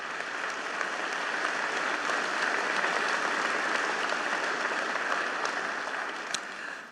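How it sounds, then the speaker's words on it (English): Sustained, even applause from a large crowd at a Homecoming 250 naval event in Milwaukee, heard as a steady continuous clapping roar with no talking. "Please give them a round of applause."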